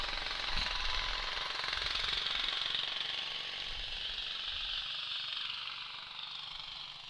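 Racing lawn tractors at an outlaw lawnmower race in Western Ontario roar flat out at full throttle in a loud, continuous, buzzing engine drone that fades slightly toward the end.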